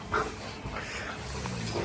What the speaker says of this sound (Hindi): ये देखो भौंकने लगेगा